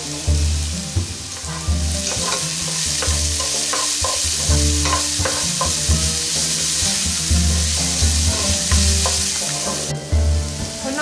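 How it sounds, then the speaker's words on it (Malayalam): Ingredients for chicken maklouba sauté with salt in a pan, giving a steady loud sizzle with repeated scraping stirs throughout, and a soft musical tone running underneath. "വഴറ്റിയെടുക്കുമ്പോൾ അതിലേക്ക് അല്പം ഉപ്പ് ചേർത്ത് വഴറ്റിയെടുക്കാം"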